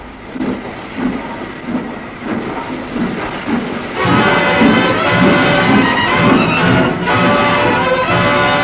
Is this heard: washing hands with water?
no